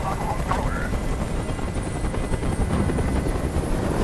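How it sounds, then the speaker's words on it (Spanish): In the video game Detroit: Become Human, a helicopter hovers nearby, its rotor producing a loud, steady, low chopping roar that fills the scene without letup. "¡Ya no resisto más ese ruido! ¡Haz que ese helicóptero se vaya!"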